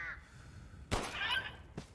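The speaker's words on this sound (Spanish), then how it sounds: "Tiene que estar por aquí el pájaro." A faint crow-like caw from a bird in the video game Resident Evil Village stands out against quiet game ambience, followed by a brief soft thump.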